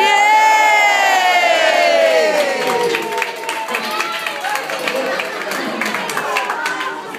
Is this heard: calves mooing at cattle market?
no